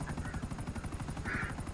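Helicopter in a video game, a steady rhythmic rotor chop thudding at an even pace throughout, fairly close and continuous.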